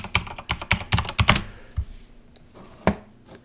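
A password goes in on a computer keyboard as a close burst of quick clacking keystrokes. A short pause follows, then a few scattered presses and one firm final key tap.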